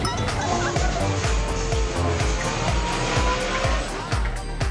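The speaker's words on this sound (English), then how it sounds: "a racing game from inside an actual moving car" A racing video game played inside an actual moving car, with a roaring engine, revving gear changes and tire squeal filling the clip loudly and continuously, racing effects layered throughout.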